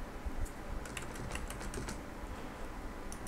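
Fingers tap keys on a computer keyboard, a quick run of light, close clicks followed by a few scattered keystrokes against a quiet room.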